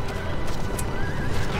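Rohan riders' horses from the Battle for Middle-earth video game whinny and clatter at a gallop, a dense continuous rumble of hooves filling the short burst, with shouting voices faintly mixed in.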